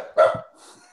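A single dog barks once, loud and close, with a short bright burst followed by a faint tail of room noise.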